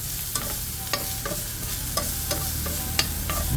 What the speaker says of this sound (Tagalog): maglagay tayo ng konting mantika sa gilid ilagay natin yung ating kinapchap na sibuyas, bawang at paminta